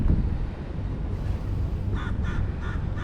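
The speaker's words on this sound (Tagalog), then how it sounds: "May uwak doon." Crows caw at Marina Barrage in Singapore, a run of about four harsh calls arriving in the second half over steady wind and outdoor rumble, moderately near.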